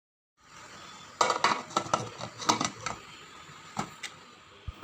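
Metal spoon scraping and clinking against a pot while salt is stirred into coconut milk pulao, a series of sharp irregular clatters and scrapes close by, with no voices.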